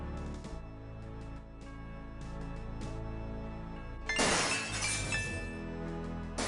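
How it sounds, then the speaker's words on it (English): Glass shatters in the game Gabriel Knight: Sins of the Fathers, a bright crash bursting out over a droning musical background and tinkling briefly before fading back into the music. "Gabriel hears the faint sound of breaking glass"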